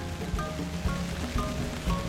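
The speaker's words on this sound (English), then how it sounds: "this is our first, we'll say, real rain." Real rain falls in the Caribbean at Prickly Pear while sailing, a steady patter on surfaces with scattered drops and a faint low hum beneath, no talking.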